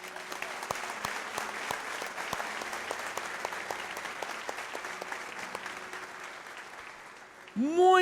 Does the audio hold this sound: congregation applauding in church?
yes